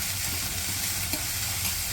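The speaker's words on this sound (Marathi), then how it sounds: "मी कांदा जेव्हा परतवायला टाकते त्यात थोडंसं मीठ घालून घेते, म्हणजे कांदा लवकर परतला जातो" Onion with a pinch of salt sautéing in a pan for a chivai leaf vegetable dish: a steady, dense close sizzle with faint stirring scrapes running throughout, no voices.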